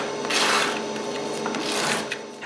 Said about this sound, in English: I sand it by hand.